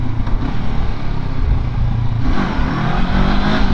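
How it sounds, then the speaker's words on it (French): Honda CB500X 2019 motorcycle engine revving up through the rev range, a loud close-up engine roar with a rising, strengthening tone after the midpoint, continuous for several seconds and alone without talk. "plus on va haut dans les tours, plus ça avance"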